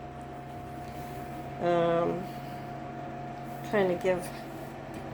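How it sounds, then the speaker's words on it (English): A food dehydrator runs in the background as a steady, low, constant hum, while a person speaks briefly over it. "I have to excuse the noise in the background. I got my dehydrator going."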